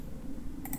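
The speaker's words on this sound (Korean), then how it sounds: "더블 클릭" A computer mouse double-clicks while working in Inventor CAD software, two quick close clicks at the end of a short stretch of steady low background hum.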